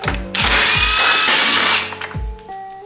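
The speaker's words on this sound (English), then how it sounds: "Now at the headlight, there's 2 bolts on top. We gotta get those removed." Power drill running on the headlight bolts of a BMW E60 M5, a steady loud whine lasting over a second, with short clicks and mechanical knocks before and after.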